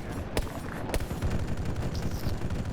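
Distant gunfire in the shooter game Halo 3 ODST: two sharp shots, then a ragged burst of softer pops under a steady background rumble.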